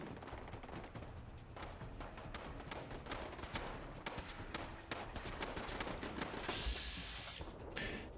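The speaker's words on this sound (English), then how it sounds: "I hear gunfire over here." Dense, continuous gunfire in Fallout London with rapid overlapping shots and bursts, loud and steady throughout, no talking.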